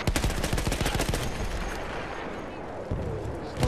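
Battlefield 1 game gunfire comes in a fast machine-gun burst of sharp repeated shots at the start, followed by scattered rattling shots and a rumbling battlefield background.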